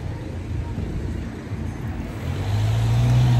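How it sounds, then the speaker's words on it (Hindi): Car passing by on a street in Azerbaijan, engine noise swelling from a low background rumble to a louder, closer hum near the end, with outdoor ambience throughout. "बीच में गाड़ी आ गई थी गाइस"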